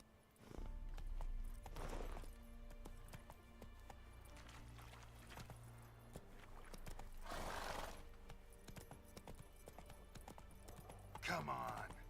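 A horse galloping in the video game Witcher 3, rhythmic hoofbeats fairly quiet under talking and game music, with a brief burst of other game noise.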